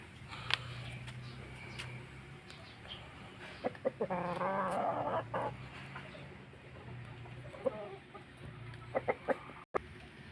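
A gamecock rooster clucks and warbles in a brief burst, fairly close, with scattered other fowl calls and faint farmyard noise around it and no talking.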